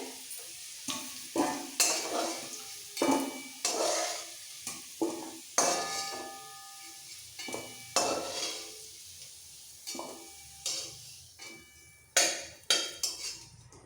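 Papaya pieces fry until reddish in a kadai for a vegetarian papaya ghonto, with a soft sizzle under repeated irregular scraping and stirring strokes of a spatula against the pan.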